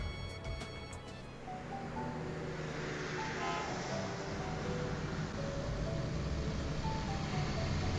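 Buses drive past in the video game Trails to Azure, a steady low motor rumble that swells and holds over several seconds, with a brief tonal horn-like chime near the start.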